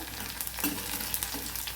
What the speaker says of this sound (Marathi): कांदा छान आपला मस्त परतला ना